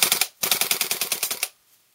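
A WE G39C gas blowback rifle fires a fast, close burst of about a dozen evenly spaced cracks after one short shot, the rhythm slowing slightly before it stops abruptly.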